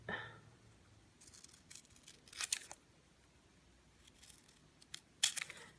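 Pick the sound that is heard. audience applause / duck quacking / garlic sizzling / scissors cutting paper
scissors cutting paper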